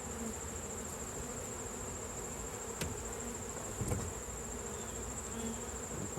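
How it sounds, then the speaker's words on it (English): A steady, dense buzzing of many honeybees close by on a hive frame, with a constant hum and a few faint knocks, no voices. "So I'm just going to shake the bees off of this frame."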